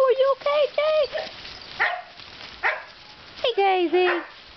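Standard poodle puppies yip and bark in short bursts, close and loud, with several high whiny barks in quick succession and gaps between.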